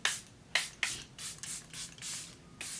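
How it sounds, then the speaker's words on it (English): A makeup setting spray bottle fires about seven short, hissing mists in an uneven rhythm, close and fairly loud, each burst cutting off sharply with quiet pauses between, and no voices. "I'm going to go in with a second layer of setting spray."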